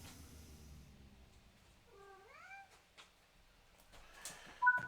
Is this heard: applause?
no